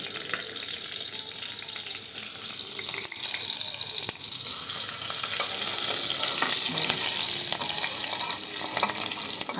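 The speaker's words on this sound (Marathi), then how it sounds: "थोडीशी मोहरी टाकली, कढीपत्ता, मिरच्या टाकते लागली" Mustard seeds, curry leaves and chillies crackle in hot oil as a tempering for a besan-and-yogurt kadhi, a close, steady sizzle with fine popping that grows louder and denser toward the end, no voices.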